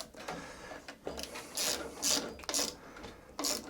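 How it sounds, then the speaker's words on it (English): A ratchet wrench snugs down bolts on an Allett Kensington cylinder mower, giving several close, loud bursts of rapid clicking separated by short pauses. "I'm then going to change it over to a ratchet, just to snug them down."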